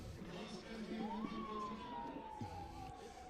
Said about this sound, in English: There's police sirens now.